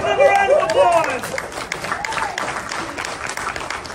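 An audience at an improv comedy show applauds and cheers, loud at first then settling into scattered clapping with crowd chatter and a voice over it.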